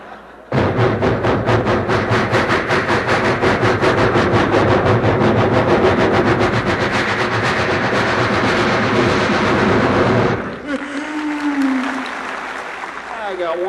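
A voice imitates a long train rolling along, with a rapid, rhythmic clickety-clack chugging held loud and steady for about ten seconds before breaking off into a brief whistle-like vocal tail.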